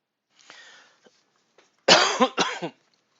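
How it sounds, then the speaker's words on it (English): A person in a model-painting workspace, sick and under the weather, coughs: a couple of faint throat sounds first, then two loud, close, harsh coughs in quick succession. "Sorry for the coughing, guys."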